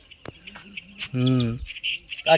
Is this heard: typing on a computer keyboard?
no